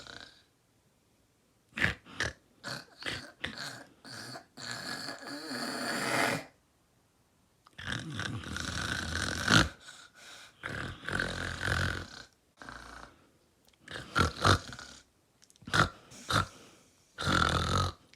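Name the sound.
person imitating pig snorting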